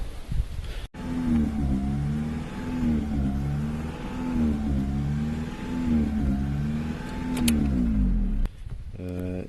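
A Lada Priora car engine faultily revs up on its own, humming and surging unevenly, its pitch wavering up and down steadily, fairly close, with a brief knock near the start.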